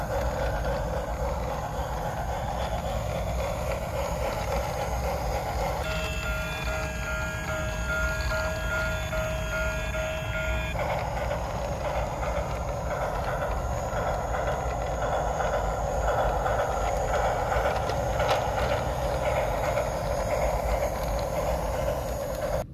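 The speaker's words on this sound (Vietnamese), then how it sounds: "Bây giờ mình sẽ hoạt động xe lửa Thomas nha." A Thomas toy train runs along its track, giving a steady mechanical whir and rumble that continues throughout, with a brief tonal hum partway through.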